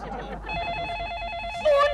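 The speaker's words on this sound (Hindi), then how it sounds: "फोन बजा, कितने दिनों बाद फोन बजा।" A telephone rings in a domestic comedy scene, a steady electronic trill holding for most of the moment before a brighter tone cuts in at the end, with faint voices and background noise beneath.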